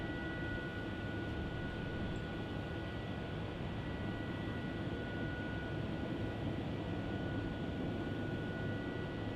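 A Thai Airways airliner, flight TG466 to Bangkok, takes off down runway 16 at Melbourne Airport, its jet roar steady and moderately loud. The noise comes as a continuous broadband rumble with a faint sustained whine over it.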